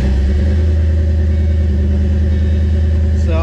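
A turbocharged Ford Mustang GT engine running with a deep, steady, loud rumble close by, holding a constant idle-like drone throughout with no clear start-up crank heard.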